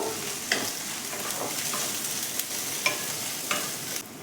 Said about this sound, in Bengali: এর সাথে আমি পেঁয়াজ কুচিটা দিলাম তার সাথে লঙ্কা কুচিটাও দিয়ে দিলাম দিয়ে এটাকে একবার ভালো করে ভাজবো